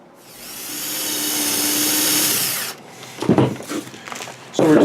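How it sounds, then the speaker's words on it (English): A drill bores a hole into the body of a studio-scale escape pod model kit, whining steadily for under three seconds before stopping, followed by clicks and handling noises. "So we're just going to bore a hole there in that center and drill it deep enough for that coupler to mount flush"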